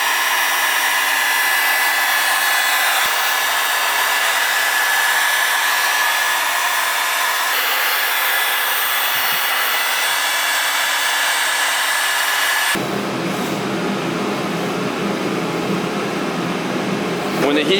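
A heat gun warms a plastic taillight to separate it, a loud, constant close blowing whoosh that runs nearly eighteen seconds and shifts to a deeper, rougher tone partway through.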